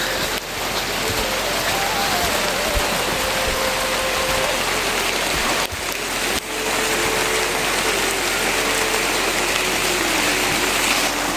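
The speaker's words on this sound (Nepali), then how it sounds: "पानी परेको" Steady rain falls in a Himalayan village in Nepal, a dense even hiss of drops on surfaces close by, continuous throughout with a faint tonal sound drifting underneath.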